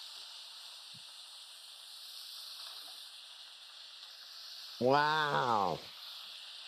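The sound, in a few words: sizzling of peppers and potatoes added to onions in pan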